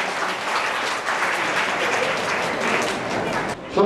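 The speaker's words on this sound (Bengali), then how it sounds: "সবাই একটু সহযোগিতা করেন করতালির মাধ্যমে।" A ceremonial crowd claps together during a flower-garland offering, dense sustained applause with voices mixed in, dropping off abruptly near the end.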